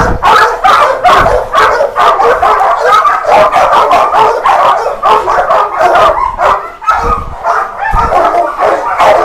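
A fierce dog barks rapidly and loudly at close range, a dense string of sharp, repeated barks and yips with barely a pause over nine seconds.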